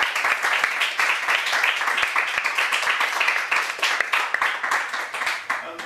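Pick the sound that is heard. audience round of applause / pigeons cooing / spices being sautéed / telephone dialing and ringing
audience round of applause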